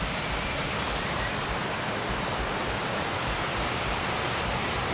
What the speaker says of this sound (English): You can hear the rapids increasing in intensity down there.